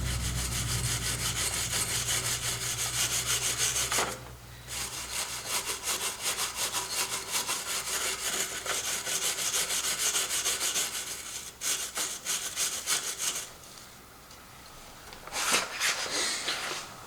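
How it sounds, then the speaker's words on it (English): Steady, rasping scraping from a hand scraping tool during a Subaru BRZ engine build with main bearing replacement, running continuously close by with brief pauses near four and twelve seconds. "My scraping tool."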